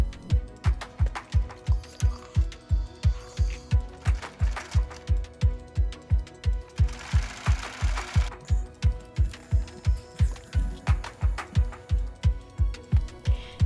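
Sewing machine stitching angled patch pockets onto a vintage apron: a rapid, steady mechanical chugging with evenly spaced needle strokes, loud and close, running continuously throughout.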